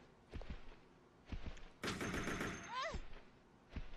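Gunshots in the survival-horror game Resident Evil Code Veronica X: a few sharp, loud reports at the start and end, with a longer noisy burst and a screeching creature cry in the middle.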